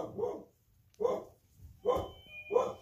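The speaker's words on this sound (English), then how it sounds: "my dog's barking" A dog barks four separate times in a loose rhythm, each bark close and fairly loud with short quiet gaps between, heard indoors with no talk.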